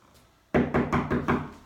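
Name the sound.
knocking imitating a door knock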